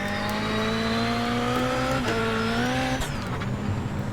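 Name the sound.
Ford Fiesta rallycross car driving at Phoenix, iRacing video game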